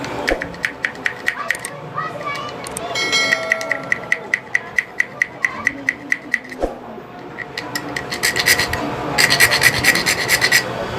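A small hand saw rasping back and forth through a plastic hair clipper switch part, a close run of quick, evenly spaced scratchy strokes with a pause midway, while someone talks over it.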